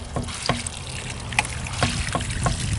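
Water from a watering can trickling and splashing steadily onto newly planted raspberries in an allotment, close by, with a few soft knocks and drips over the flow.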